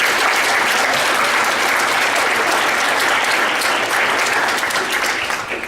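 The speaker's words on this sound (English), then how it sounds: "Can we give Hillel another round of applause?" Steady, dense applause from an audience acknowledging Hillel, sustained and loud for the full length with no pauses.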